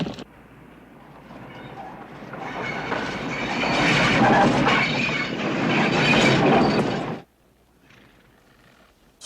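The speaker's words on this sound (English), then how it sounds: "The train." A train rumbles past on the rails, building from a low approach into a loud, close clattering roar with squealing metallic tones, then cutting off abruptly to near quiet.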